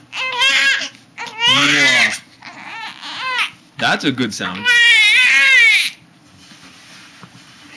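A one-month-old baby girl cries and fusses in bursts of wailing and small vocal sounds, close and loud, while someone speaks softly between the cries.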